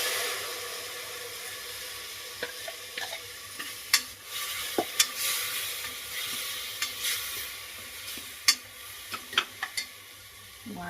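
Tomato puree goes into a hot sizzling pan for Agri-style mutton rassa curry. A steady sizzle runs underneath while a spoon scrapes and stirs, adding scattered clinks and sharp pops close by, with no talking.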